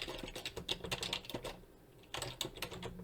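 Rapid typing on a computer keyboard, close and clear, in two quick bursts of key clicks separated by a short pause.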